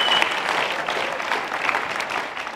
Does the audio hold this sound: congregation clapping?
yes